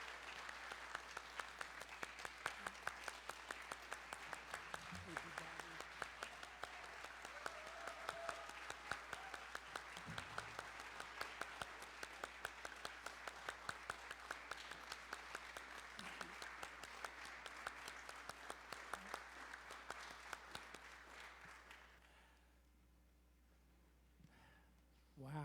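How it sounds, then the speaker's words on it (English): Sustained audience applause at a Sunday service, a dense steady clapping from a large congregation for about twenty seconds before it fades out, leaving near quiet. "Can we please give him a round of applause and a standing ovation?"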